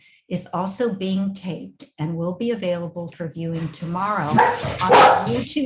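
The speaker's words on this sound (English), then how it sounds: "sorry for the dog" A dog barks in a home office during an online talk, a loud burst of barking near the end that rises over a woman's steady close-up speech.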